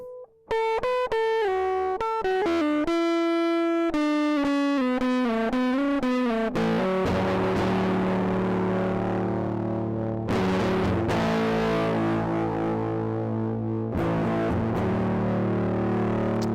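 Electric guitar played through a fuzz pedal with the octave effect switched off: a few clean-edged melodic single notes give way to thick, sustained distorted chords that ring out and are restruck several times, loud and alone.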